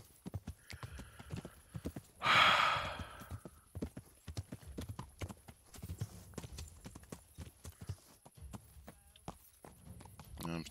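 Horse hooves clip-clop in a quick, steady rhythm throughout the medieval game Kingdom Come: Deliverance, with a loud whinny early on and brief bits of talk over the riding.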